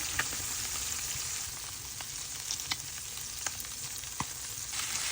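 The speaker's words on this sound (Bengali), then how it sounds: "তো আমি কয়েকটা কাঁচামরিচ দিয়ে দেবো আর ধনে পাতা দিয়ে এটা ভাজবো।" Green chillies and coriander leaves fry in a pan alongside a fish and potato dish, giving a soft steady sizzle dotted with small crackles and occasional light pops, heard nearby with no talking.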